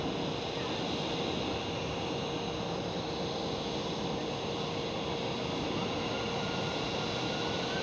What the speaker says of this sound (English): There goes the KLM Queen. Have a lovely flight. Turning onto runway 24.